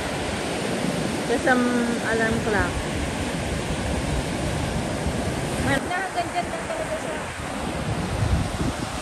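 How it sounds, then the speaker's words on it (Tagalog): Sea waves wash onto Cijin beach at night in a steady, broad rush of surf, with people chatting over the noise. "Sarap pakinggan guys ng dagat"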